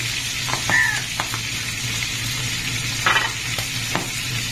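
Pabda fish frying in a pan gives a steady broadband sizzle with a few brief scraping or clinking touches, fairly close and with no talk.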